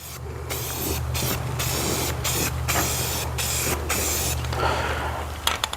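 Satin Poppy Red paint hisses from a spray can in short repeated bursts as a second coat goes onto a kids' camping trailer, loud and close with brief pauses between passes.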